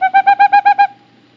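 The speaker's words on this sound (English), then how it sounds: "Boreal Owl." Seven quick, evenly paced whistled hoots from a boreal owl, near and clear, ending abruptly into quiet.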